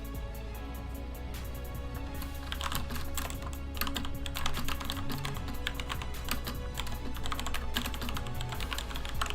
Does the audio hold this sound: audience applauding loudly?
no